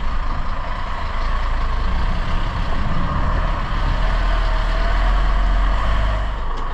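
A truck's loud, steady engine drones close by on a farm as it reverses up a tight track, with a continuous low rumble and no speech.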